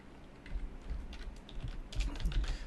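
Quiet, steady typing on a computer keyboard while writing Angular code, soft clustered keystrokes tapping away close by with no talk.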